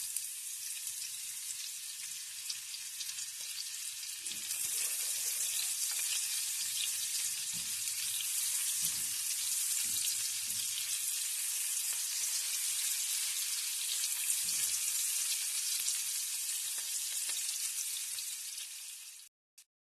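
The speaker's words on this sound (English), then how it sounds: "I'm just going to use the same oil, the bacon fat, and then add the onions" Onions fry in leftover bacon fat in a pan, giving a steady, loud, broadband sizzle that runs the whole time, with a few soft stirring knocks underneath and no talking.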